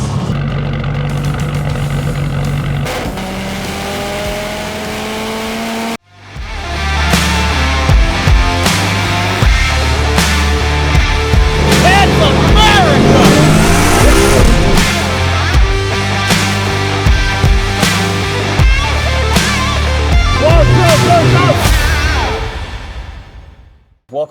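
Nissan S13 240SX fitted with a T51R turbo, accelerating hard on the street; after a brief lower-pitched intro the engine surges loudly with rising, sweeping tones and whooshes, sustained and close for most of the stretch, no talking.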